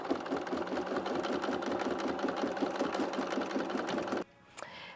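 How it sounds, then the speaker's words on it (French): A sewing machine stitching a child's cap with satin trim runs at a steady rapid needle rhythm, close and clear, then stops abruptly near the end followed by a brief click. "J'aime ça, réduire la vitesse de la machine pour commencer."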